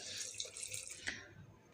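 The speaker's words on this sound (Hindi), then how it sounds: "कुकर में सारी चीज़ें डालने के बाद मैं इसमें पानी डाल रही हूँ" Water poured from a glass into a pressure cooker of ingredients for chaat, a faint steady splashing trickle close by that tapers off near the end.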